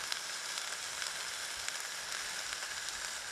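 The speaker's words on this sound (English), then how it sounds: "So I'm just giving it a bit of a flash fry at the minute." Meat is flash fried in a pan at a woodland camp, giving a steady bright sizzle with scattered crackles and spits, close and constant, no talking.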